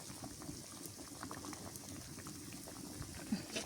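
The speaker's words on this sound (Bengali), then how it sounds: "তরকারি যেহেতু বলক উঠে গেছে।" Fish curry boils steadily in a pot, a continuous soft bubbling and gurgling texture, quiet and close, without pause.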